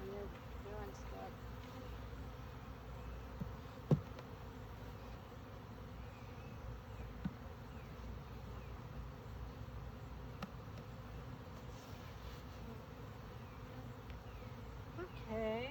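Bees buzzing in and around a hive being worked, a continuous low drone with individual insects passing close now and then, faint handling knocks underneath.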